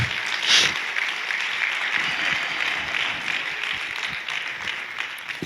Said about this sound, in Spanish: porque sin dar la explicación ya aplaudieron